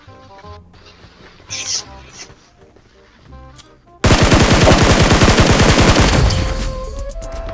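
Gunfire from a gun in a battle royale video game, quieter game sounds and faint talk at first, then a loud, rapid burst of automatic fire with evenly spaced shots that lasts several seconds.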